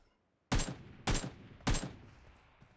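Three sharp gunshots from a mobile shooter game, evenly spaced about half a second apart, each a loud crack with a short decaying tail, alone with no talking.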